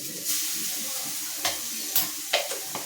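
Garlic paste goes into a hot pan for aloo gobi, giving a soft, steady sizzle and hiss broken by a few brief scraping stirs.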